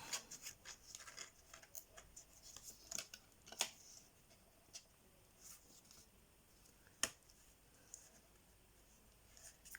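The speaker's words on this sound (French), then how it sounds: "Donc là, je vais découper un peu en biais." Scissors snipping scrapbooking paper at an angle, a run of small close crisp cuts and rustles, faint and spread irregularly across the span, with one sharper snip standing out.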